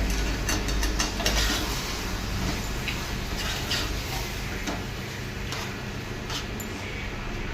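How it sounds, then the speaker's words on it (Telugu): Marinated chicken frying in a pan for bagara rice and chicken curry, stirred steadily, with a constant low sizzle and scattered clicks of a spoon against the pan, close and moderately quiet. "మ్యారినేట్ చేసుకున్న చికెన్ వేసుకున్నాం. మొత్తం కలిపేసుకోవాలి."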